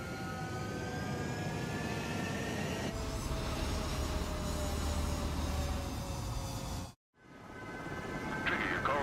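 Fighter jets roll down a runway and take off in Ace Combat 7, a loud, steady jet-engine roar that builds and thickens partway through, then cuts out sharply for a moment before resuming.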